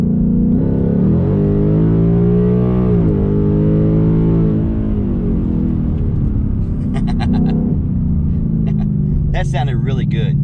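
A Coyote V8 with a Pypes X-bomb cat-back exhaust revs and accelerates in a 2020 10R80 project car, a deep rumbling roar climbing and falling in pitch. Voices chatter over it near the end along with some clicking.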